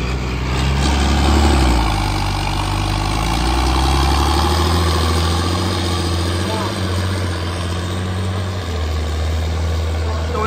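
A tractor with a tweaked fuel pump pulls a weighted sledge at a farm pulling event, a loud, near, steady diesel drone that climbs in pitch as it shifts up through the gears, with faint voices underneath.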